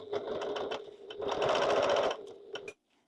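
Sewing machine with a zipper foot stitching along a zipper, a close, rapid mechanical whirring run of about three seconds with brief stops and starts before cutting off.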